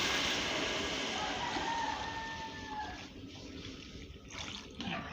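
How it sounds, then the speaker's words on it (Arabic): Water is poured into a cooking pot of basmati rice, a steady close splashing gush that softens and thins toward the end. "هنزل بالميه بتاعت الرز"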